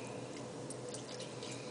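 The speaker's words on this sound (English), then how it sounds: "And then you pour in some milk." Milk poured into a potato gratin dish for scalloped potatoes makes a soft, steady liquid trickle with faint drip-like splashes, continuous and close, with no talking.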